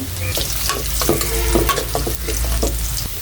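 Bay leaf, cinnamon and cumin sizzle briskly in hot oil, a steady close crackle broken by repeated scrapes and knocks of a stirring spoon against the pan, with no talk.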